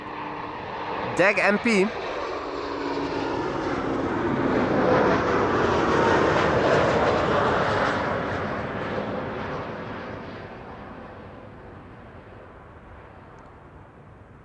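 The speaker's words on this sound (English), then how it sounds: "A320 now over here. This is KLM flight 980 arriving from London City." KLM Airbus A320 arriving at Amsterdam Schiphol from London City, a jet roar that swells to a peak midway and then fades away, with a brief voice near the start.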